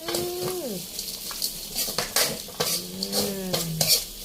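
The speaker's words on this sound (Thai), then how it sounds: "ผัดไปเรื่อยๆนะคะ" Spicy field rat meat is stir-fried in a pan in Thai Isan style, with sizzling and repeated scraping and clanking of a utensil against metal, up close and fairly loud.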